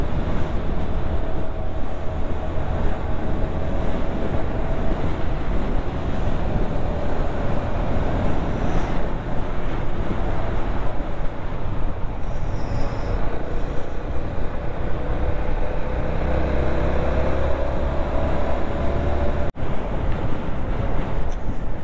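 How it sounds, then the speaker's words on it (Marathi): Strong wind roars in a mountain pass during a bike ride toward Bhimashankar, a loud continuous rushing buffet that hits the microphone without pause, with no talking. "अशी जोरजोरात हवा आहे ते"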